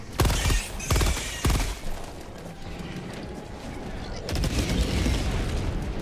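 Combat on a hellish planet in Helldivers 2: three heavy, close booms in quick succession, then a sustained roar of gunfire and blasts that swells again near the end.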